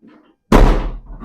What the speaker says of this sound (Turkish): Kapıyı kapattık.